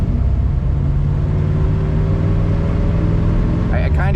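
A 1976 Corvette revived after sitting ten years rumbles steadily on the road, a low continuous engine drone heard from inside the car, with a voice breaking in briefly near the end.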